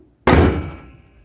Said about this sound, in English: That's how it sounds when you shut it.